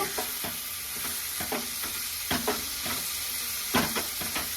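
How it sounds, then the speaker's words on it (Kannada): Dry prawns being stirred into fried masala in a pan for a jhinga fry, with repeated scraping stir strokes over a steady sizzle and no talking. "ಇವಾಗ ನಾನು ಇದಕ್ಕೆ ಚೆನ್ನಾಗಿ ಒಂದು ಮಿಕ್ಸ್ ಅನ್ನ ಕೊಟ್ಕೊಳ್ತೀನಿ ಫಸ್ಟ್"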